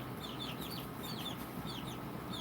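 Chickens clucking near a home garage, with repeated short clucks in quick bursts over a steady background hiss.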